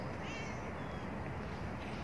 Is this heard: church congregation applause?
no